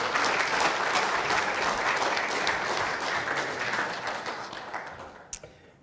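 A church congregation applauds together in sustained, dense clapping that fills the room, holding steady before thinning out and fading near the end, with no voices over it.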